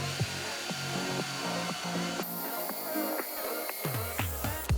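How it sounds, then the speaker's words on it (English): A power drill whirs in repeated short bursts, spinning up and winding down as it bores dowel holes into wooden bed panels, close and moderately loud. "drill the holes on the panels"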